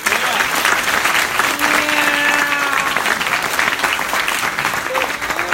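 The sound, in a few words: audience applause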